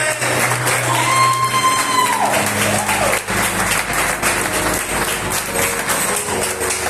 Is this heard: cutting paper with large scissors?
no